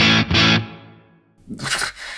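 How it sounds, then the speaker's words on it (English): Electric guitar through an Axe-Fx III amp model of a Fender Deluxe Reverb with its vibrato at stock settings, wavering; two strummed chords ringing out and fading before another chord rings in. "Deluxe reverb vibrato, stock settings."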